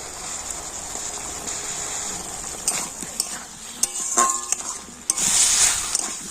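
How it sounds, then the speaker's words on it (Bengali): Potatoes are stir-fried with ground spices and a pinch of crushed dried fenugreek leaves in a pan, with soft sizzling, spatula scrapes and a few louder clinks of metal near the end; no voices. "দেখুন সমস্ত মশলার সাথে কিন্তু আলুটাও খুব ভালো করে কষে নিয়েছি"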